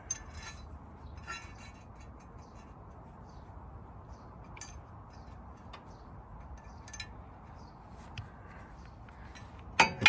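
Small metallic clinks and ticks while shear bolts are fitted to a Kubota G231 ride-on mower blade: a few sparse, faint taps spread over several seconds against quiet background, with a louder clank at the end.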